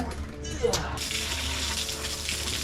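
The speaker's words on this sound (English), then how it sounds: "let's just hit it with the hose" Water from a garden hose sprays onto a race kart, a steady close hiss and splash that builds after a brief start and continues throughout.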